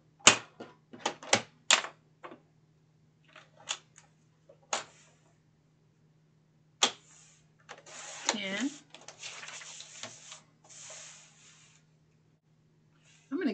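A piece of cardboard box is cut with a series of sharp, separate snips and clicks. A longer scraping, tearing stretch follows in the middle, with quiet pauses between.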